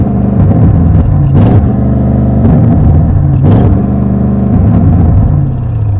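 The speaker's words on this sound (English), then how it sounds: "you're going to rev it at traffic lights" A 2023 Audi RS 7 with sports exhaust revved while stationary, loud and close: a steady deep idle broken by two sharp throttle blips that rise and fall quickly, with the soft limiter holding the revs down.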